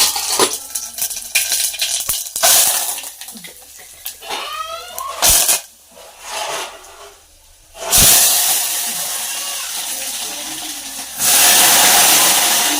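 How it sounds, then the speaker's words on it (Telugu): Curry tempering with spices dropped into hot oil gives loud, close bursts of hissing sizzle that surge, fade and surge again, with a few sharp clatters in between. "అట్లా సౌండ్ అవ్వాలి తాలింపు"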